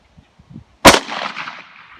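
A single 9mm pistol shot fires a SIG 115 grain jacketed hollow point round, a sharp loud crack followed by a decaying echo, with a few faint clicks just before it.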